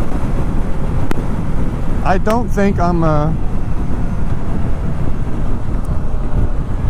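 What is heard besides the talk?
wind noise while riding a BMW K1600 Grand America motorcycle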